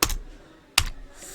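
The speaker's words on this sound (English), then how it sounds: "So I just go to the top and type import this" Keys on a computer keyboard are struck while typing code, giving two crisp, close clicks spaced under a second apart over faint room hum, with no voice.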